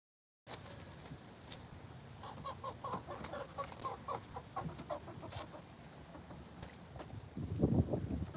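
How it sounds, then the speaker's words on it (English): A Silkie hen clucks in a backyard coop ahead of bath time, giving a run of soft, close, repeated clucks followed by a louder rustling scuffle at the end. "so I'm gonna get the last chicken"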